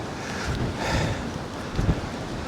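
Strong storm wind buffets the microphone on the Dorset coast during Storm Darragh, with a steady broadband roar that swells and gusts; surf and waves can be heard faintly beneath.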